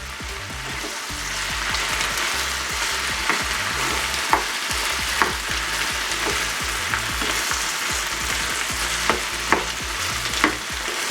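Potato pieces for a Spanish potato omelette fry in oil in a pan, a steady close sizzle broken by a few louder scraping knocks as they are pressed and stirred.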